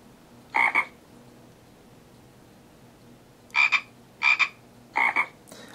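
Frogs croaking in the MathLands iPad puzzle game, four short double-pulsed croaks, one alone and then three in quick succession, clear against a quiet background.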